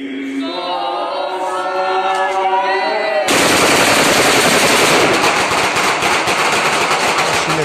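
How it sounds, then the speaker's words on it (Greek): Kalashnikov automatic rifles firing at a Cretan celebration: after a few seconds of voices, loud, dense, rapid bursts of gunfire break out and continue without a break to the end. "σφραγίζονται από τον ήχο των Καλάσνικοφ"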